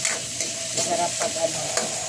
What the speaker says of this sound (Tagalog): Yung mga sibuyas, bawang, at saka kamatis. Masarap siya pag pinigisa mo. Kunting mantika.